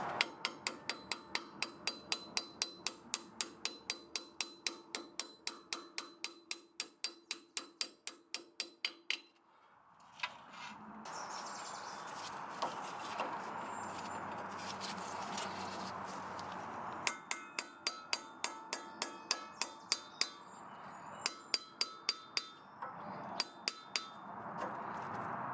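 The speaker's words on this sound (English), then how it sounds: "I'm gonna hit it with the hammer right here" A hammer strikes a pliers-style cutter to pop out a rusted cotter pin: rapid runs of sharp metallic taps, a pause with clattering handling noise, then more quick taps, close and crisp.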